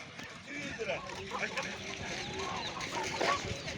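Chickens clucking at a busy poultry market in Sungurlu, Turkey, with repeated close clucks and squawks from birds being sold, mixed with the chatter of vendors and buyers talking around them.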